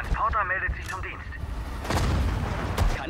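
Artillery fire booms in the WWII strategy game Sudden Strike 4, with heavy low blasts and rumbling impacts following a clipped voice command, the explosions spread over several seconds in a busy battle mix.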